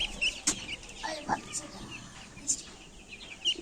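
Three-day-old broiler chicks peep in a village poultry setting, giving scattered short high chirps at moderate distance over a faint background hum.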